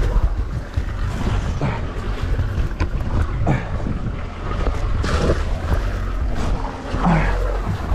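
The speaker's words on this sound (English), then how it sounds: "I'm gonna keep my motor on and try to get this anchor out of here." A boat motor on a DIY floating ice shack runs loud and steady over heavy wind buffeting on the microphone and splashing water, with no speech.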